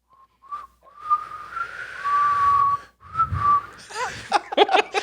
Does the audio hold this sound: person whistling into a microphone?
yes